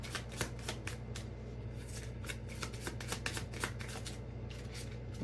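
Tarot cards are shuffled repeatedly up close, with quick bursts of riffling flutters over a low steady hum.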